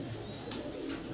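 Pigeons on a rooftop coo softly over a steady low background hum, a brief cooing call standing out near the middle of the short stretch.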